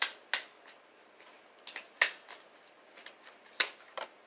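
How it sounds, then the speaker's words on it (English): Tarot cards being shuffled by hand in a quiet room, a series of crisp, sharp riffles and snaps at irregular intervals, close and fairly soft, with no talking. "Now I'm going to go ahead and shuffle."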